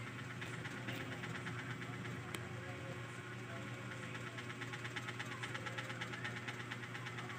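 A discarded heater blower motor, salvaged and plugged into a wall socket, runs with a steady mechanical hum and faint rattling vibration, continuous and fairly close.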